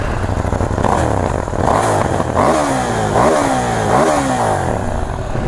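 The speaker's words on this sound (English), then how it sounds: "I am sat on top of a KTM 790 Duke, new for this year." A KTM 790 Duke motorcycle engine revving loudly and close, with repeated throttle blips that rise and fall in pitch over a steady rumbling idle.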